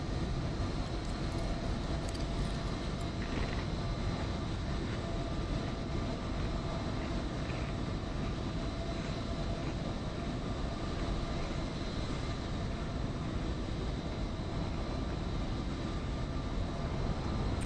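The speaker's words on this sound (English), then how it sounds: "This is the Ryanair A320." Inside a Ryanair Airbus A320 in Microsoft Flight Simulator 2020, a steady broadband roar of jet engine and cabin noise runs continuously and evenly, with no speech.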